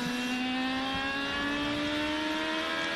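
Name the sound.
IndyCar race car accelerating out of a corner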